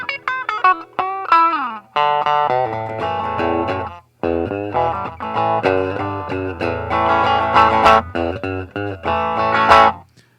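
Fender Classic Series Baja 60s Telecaster with out-of-phase pickups, played through a thin, nasal tone, strummed chords and single-note runs ringing loudly, with a hollow, slightly wah-like quality.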